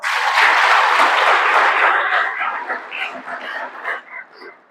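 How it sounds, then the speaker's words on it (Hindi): Audience applause at a spiritual gathering in Jagdalpur, Chhattisgarh, a dense burst of clapping that starts loud and then thins into scattered, fading claps. "ताली तो बजाओ।"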